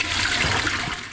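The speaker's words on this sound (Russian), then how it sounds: "Чтобы для приготовления рис, чтобы сварили, его надо хорошо" Cold water runs steadily over rice being washed for Azerbaijani plov, a continuous close rushing and splashing with no talk.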